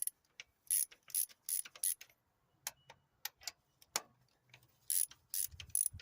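A ratchet clicks in quick bursts while loosening spark plugs on a Pontiac Vibe or Toyota Matrix engine, sharp close-up pawl ratcheting in short uneven runs with a few gaps between strokes.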